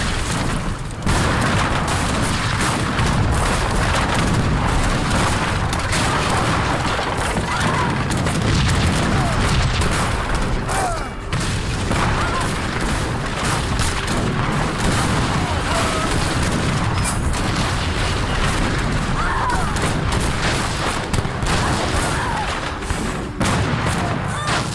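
Cannon fire and battle noise from Age of Empires 3 Definitive Edition, a dense, continuous stream of booming blasts and crackling shots with no pauses.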